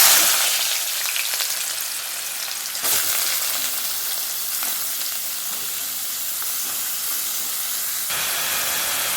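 Thinly sliced onions fry in a pan with a loud, steady sizzle and hiss, close up and continuous, with brief bumps of stirring along the way.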